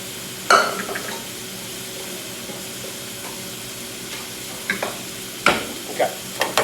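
Butter melts and sizzles in a pan for gluten-free pasta, a steady soft frying hiss broken by a few sharper crackles and the clatter of stirring.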